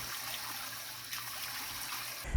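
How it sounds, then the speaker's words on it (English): Cold water trickles and splashes softly as boiled mung bean sprouts are rinsed and shaken in a bowl, a steady low-level running sound with a small clink at the end. "rinse in cold water for 3 to 4 times. Shake them under the water to fold the skins."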